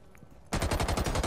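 Rapid automatic gunfire in a video game bursts in abruptly after a quiet moment, a dense, loud, evenly spaced stream of shots continuing to the end.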